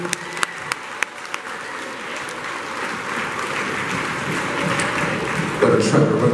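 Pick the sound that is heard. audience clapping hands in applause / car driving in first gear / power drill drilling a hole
audience clapping hands in applause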